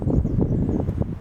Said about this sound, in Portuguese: acaba por estar um bocado de vento